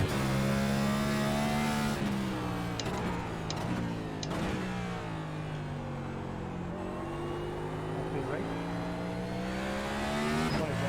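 A NASCAR Cup car engine in the iRacing video game laps the Sonoma road course, with a loud continuous engine drone that shifts pitch through gear changes, braking and acceleration, heard from the cockpit and with no talk.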